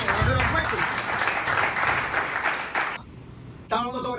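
A congregation at a church service claps strongly for God for a few seconds. The applause then cuts off to near quiet before a voice starts talking.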